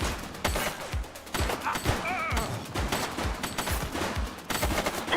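A suspect fires at police in the video game The Precinct, loud rapid bursts of automatic gunfire with sharp repeated shots running through the whole stretch and a brief voice calling out in between.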